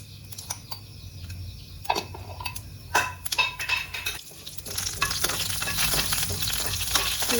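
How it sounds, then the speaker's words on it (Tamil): Cumin seeds and urad dal sizzle in hot oil in a pan, a crackling fry broken by stirring scrapes and taps that settles into a steady, close sizzle. "சீரகம் போடுறேன். உளுத்தம்பருப்பு கொஞ்சமாக சேர்த்துக்கிறேன்."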